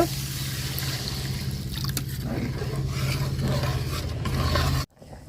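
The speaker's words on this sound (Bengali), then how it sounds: "এখন ঝোলের পানি দিয়ে দিব" Water poured into a hot pan of spiced fried potatoes for a fish curry, a steady hissing, trickling rush with faint scraping that runs for several seconds and then cuts off abruptly.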